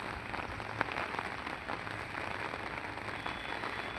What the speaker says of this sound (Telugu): మా ఊర్లో అయితే ఫుల్ వర్షం పడుతుంది